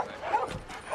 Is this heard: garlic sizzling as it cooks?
no